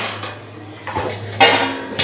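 Freshly washed dishes, pots and utensils are set down in a few quick clattering knocks, the loudest near the end, close by with no talk.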